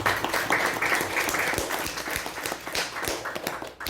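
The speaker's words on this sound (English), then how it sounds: "let's give a thunderous round of applause to all the assignments" An audience of youth leaders claps at a leadership programme event, a short steady burst of applause with dense overlapping claps at moderate distance.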